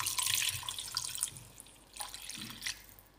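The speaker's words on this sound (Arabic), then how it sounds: "دابا شنو غندير، ندير شويه الماء نمرقها." Water poured into a tagine with onions, a short splashing pour and soft trickling drips, fairly faint and close, without speech.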